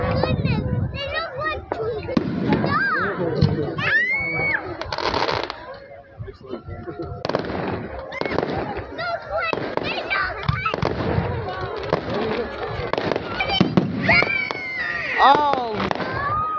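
Night fireworks display at the Mildura show: repeated bangs, crackling bursts and whistling shells close by, mixed with children and adults talking and exclaiming throughout.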